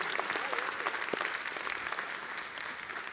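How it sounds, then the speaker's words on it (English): A church congregation applauds during a worship service, a dense, steady round of clapping from many hands heard at a moderate distance, with a few faint voices mixed in. "when one person claps, that's a sign."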